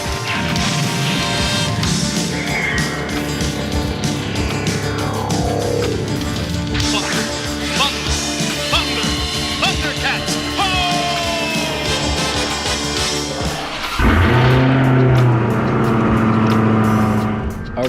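A 2020 Dodge Charger Hellcat fires up from cold, its loud engine rumbling and revving near the microphone with a sharp roar surging late in the start.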